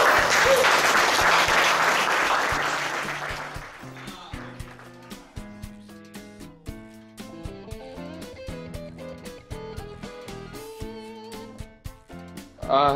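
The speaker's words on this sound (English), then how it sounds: "please give me a big applause" An audience applauds at a cooking event, loud dense clapping for about four seconds that then fades as piano music takes over.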